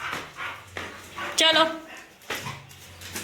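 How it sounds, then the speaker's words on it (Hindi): A pet dog at home gives short barks and whimpering yips close by, mixed in with a voice speaking over it. "मैं देखना चाहती हूँ इतनी तेज से भौंक क्यों रही थी"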